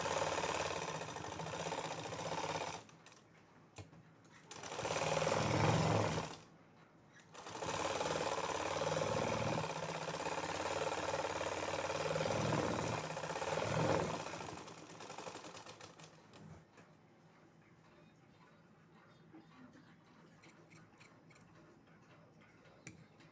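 A sewing machine stitches a paper-pattern neck onto a shirt, running in steady bursts with a fast mechanical chatter, briefly stopping between runs before falling quiet near the end.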